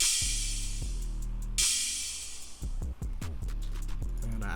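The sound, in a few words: cymbal at beginning of 4-bar loop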